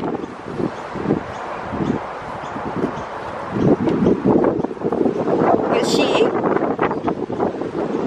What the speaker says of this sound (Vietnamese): Gió thế nha.